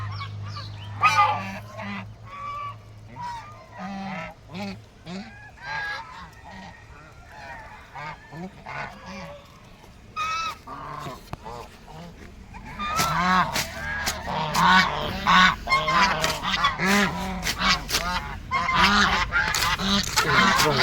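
Chinese geese honk loudly and repeatedly at a rural homestead, calling in scattered bursts at first and then as a dense, overlapping chorus in the second half.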